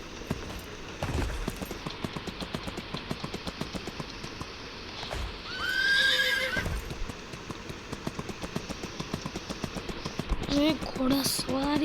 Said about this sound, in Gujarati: ઘોડા સવારી